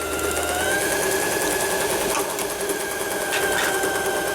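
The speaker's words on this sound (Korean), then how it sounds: "비교하시라고 다시 한번 바느질을 해보는 겁니다" A Lion 419s sewing machine runs a straight stitch, a steady, close, continuous mechanical whir with rapid rhythmic needle ticking and no voices.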